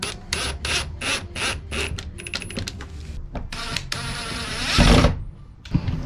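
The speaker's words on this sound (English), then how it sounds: "We can screw in these clutch blocks where there aren't pocket holes." A power drill driving screws into wooden clutch blocks for countertop supports in a camper kitchen remodel, with rapid ratcheting clicks in short repeated bursts, close and fairly loud, ending in a heavier clunk.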